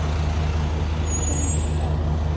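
Trucks parked at a truck stop on the Halifax to Moncton route give a steady, continuous low diesel rumble with a broad hiss of traffic over it, no voices.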